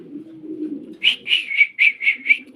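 Farm pigeons call up close: a low murmuring coo, then a quick series of about six higher, evenly spaced calls.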